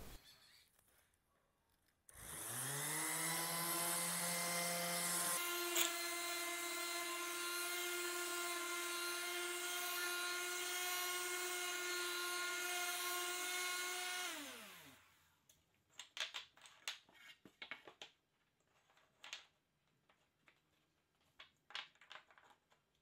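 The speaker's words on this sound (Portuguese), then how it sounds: "hoje eu quero fazer um teste bem rápido com a lixadeira" An electric sander is tested on a workbench: it whines up sharply, holds a loud steady high-pitched drone with one brief shift in pitch, then spins down, followed by quieter handling knocks and clatter.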